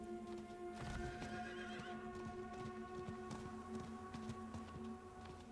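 In the Diablo IV video game, a horse gives one sharp neigh near the start, then its hooves gallop in a steady clip-clop rhythm under a sustained tonal background.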